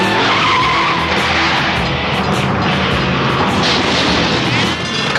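During a Blues Brothers film stunt, a car skids with loud squealing tires and engine roar that stay dense and continuous throughout, without any speech.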